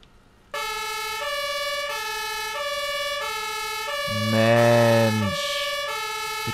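A fire engine siren wails loudly and close by in the farming game Landwirtschafts-Simulator 19, with a deeper horn blast swelling midway through.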